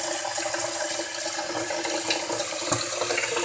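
Water from a tap runs steadily into a saucepan, a continuous close splashing hiss with faint clinks, with no talking.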